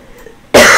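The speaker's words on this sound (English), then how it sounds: "I'm sorry for coughing." A single sudden, loud cough bursting out after a brief near-silence, close and harsh, heard alone.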